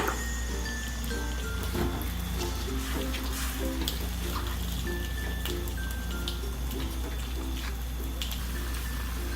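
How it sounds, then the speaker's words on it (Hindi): Water is poured into a pan while keema is being cooked, a continuous splashing, trickling wash that runs steadily with faint tonal sounds underneath. "अभी पानी डाल रही हूँ।"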